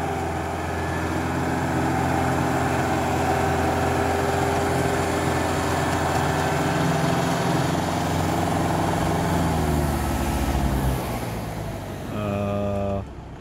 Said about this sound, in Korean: 지금 트랙터 멈췄습니다